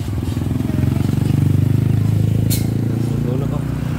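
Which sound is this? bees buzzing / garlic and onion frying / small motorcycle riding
small motorcycle riding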